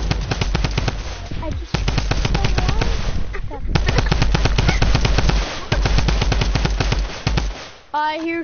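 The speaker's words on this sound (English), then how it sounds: "I hear shooting." Loud, rapid video-game machine-gun fire rattles in long continuous bursts, with short pauses between strings of shots and a voice briefly speaking near the end.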